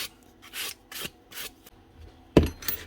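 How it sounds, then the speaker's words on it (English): Cleaning corrosion off a part of a DeWalt DCS369 reciprocating saw by rubbing, heard as a few short close scrubbing strokes in bursts, then a sharper knock and scrape at the end. "Give that end a wee bit of a rub as well."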